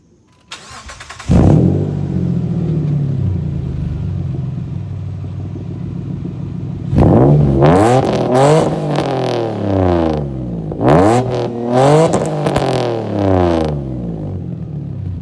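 A 2003 Mitsubishi Eclipse GT with a 3.0 V6 and an Invidia N1 exhaust, no silencer, cranks over and fires into a loud idle, then revs hard in several bursts that rise and fall, close and alone.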